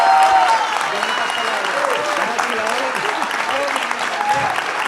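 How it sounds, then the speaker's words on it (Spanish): An audience at a book launch applauds author Nicolás Márquez, loud sustained clapping close by with scattered cheers and crowd voices mixed in, holding steady throughout. "Más fuerte el aplauso para el gran Nicolás Márquez"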